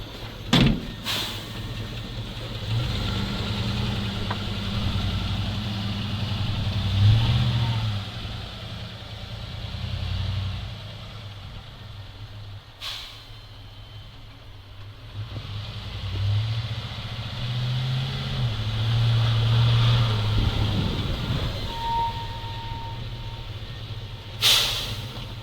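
A ZIL truck engine idles and revs gently as the truck backs up a little for a brake test. Sharp bangs and door-like thumps break in a few times, and a brief hiss sounds near the end.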